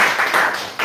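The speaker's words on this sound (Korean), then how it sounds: "박수 한번 주십시오." Audience applause at a December lecture on Pohang heritage in Korea, a dense, steady wash of many hands clapping, fairly loud and continuous through the short stretch with no voices on top.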